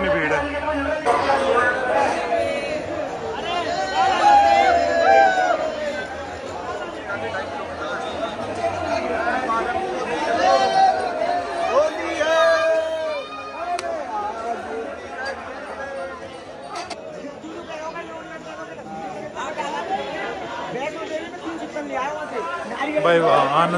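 A dense crowd chatters and calls out in a packed main market in Vrindavan during Holi celebrations, with a continuous busy hubbub of many voices mixing near and far for the whole stretch.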